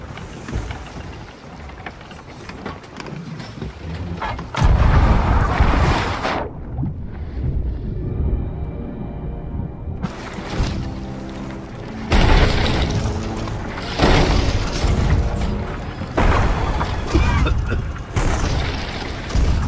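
Cannon fire from a pirate ship in a naval video game, heavy booms recurring several times over a steady roar of wind and sea with rushing water between blasts.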